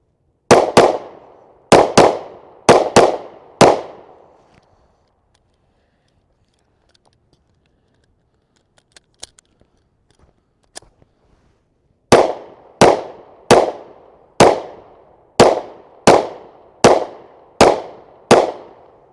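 Ruger EC9s 9mm pistol fired at an outdoor range in two strings, four sharp shots in quick succession, a long pause with faint clicks, then nine evenly spaced loud reports close by.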